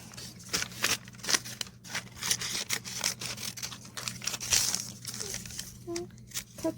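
Scissors trim craft material up close in a series of quiet irregular snips and crinkles, with soft paper rustling between the cuts and a person talking at times.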